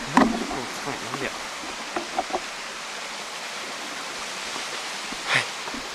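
Genji Falls rushes at night as a steady, even wash of broadband water noise, with a few brief knocks and bumps near the start and one louder thump toward the end.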